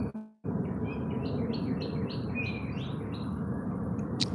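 Birds chirp outdoors in the morning in a quick run of about eight short, bright tweets over steady background noise, followed by one sharper note at the end.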